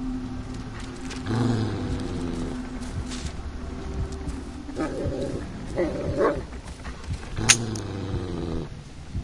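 A dog in the horror video game Blair Witch whimpers and gives a few short yips and barks amid eerie ambient game sound, with someone talking over it at times.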